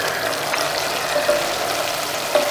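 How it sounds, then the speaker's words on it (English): Curry leaves sizzle in hot oil in a pot of bamboo shoot curry, a steady close frying crackle with a couple of soft stirring scrapes. "So that sprig of curry leaf goes into the pot, and I am going to stir it."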